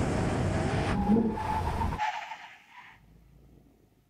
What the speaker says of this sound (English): Brake test from 100 miles an hour. When we reach the line, full emergency stop.